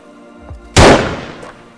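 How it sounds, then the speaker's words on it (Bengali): A single loud, close gunshot from the film Andhadhun cracks out and decays quickly, with a fainter thump just before it and a low hum underneath. "মনোহর টাকার ব্যাগ নিয়ে আসে এবং মুরলিকে গুলি করে"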